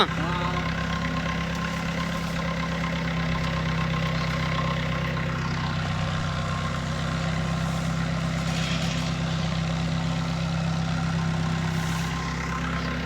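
A tractor engine idles at a farm field edge, a steady, close, low rumble with a constant droning hum that holds unchanged for the whole stretch.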